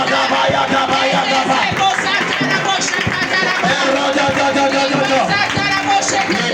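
A loud church congregation at a deliverance prayer service, many voices shouting, acclaiming and praying aloud all at once in a dense, continuous roar of crowd noise.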